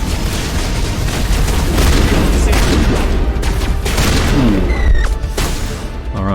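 Shotgun fire in the video game Mass Effect: heavy, booming blasts layered over continuous loud combat noise, with a few short rising electronic tones near the end.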